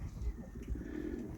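Young racing pigeons in a loft coo in low, soft, rolling murmurs that continue steadily under faint background noise.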